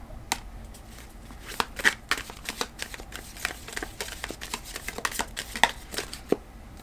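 Tarot cards are shuffled by hand in a quiet room, a run of soft, irregular riffling snaps and flicks at close range with brief pauses between them, and nobody speaking.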